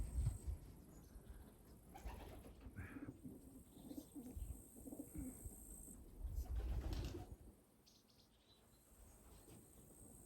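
Pigeons coo softly in repeated low calls, with insects chirring steadily in the background of a quiet outdoor setting.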